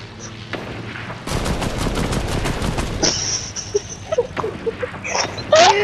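Rapid bursts of automatic gunfire in the video game Fortnite, a loud, close string of shots lasting a couple of seconds, followed by scattered game effects and smaller pops.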